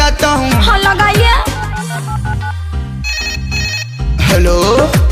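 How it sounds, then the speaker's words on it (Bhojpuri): A loud, melodic ringtone plays continuously for several seconds while an outgoing phone call connects. "अभी मैं फोन लगाता हूँ"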